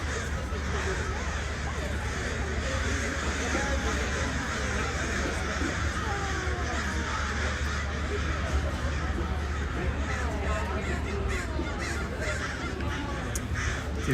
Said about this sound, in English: Boy, those crows are loud. There's tons of them.